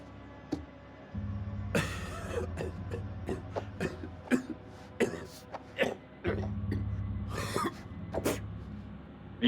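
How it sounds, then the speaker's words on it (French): A character coughing in the video game House of Ashes: a run of harsh, raspy coughs and throat clearing in irregular bursts, close and moderately loud, over a low droning background hum. "C'est une vilaine toux"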